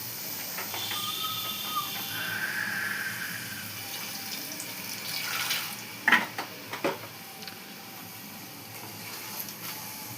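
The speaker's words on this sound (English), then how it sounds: "Now we adding some water." Water is poured into a cooking pot of gravy with spices, a steady hissing pour with a few clunks of the pot partway through.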